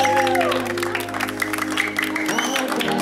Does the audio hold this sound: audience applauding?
yes